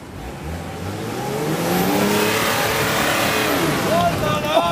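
A 4x4 off-road vehicle's engine revs up and holds at a steady, loud drone, rising in pitch at the start and staying close throughout.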